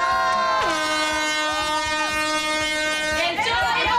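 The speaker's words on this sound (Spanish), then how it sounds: "suena la bocina, comienza el chollo del día" A loud, sustained air horn blast on a Spanish TV show opens the daily bargain sale, holding a steady tone for nearly three seconds with a brief pitch bend midway before cutting off into crowd noise.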